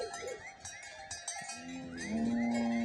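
Cattle wearing cowbells are driven from a paddock back to a cattle pen on a rural farm in Buhera, Zimbabwe, with a lowing moo near the end.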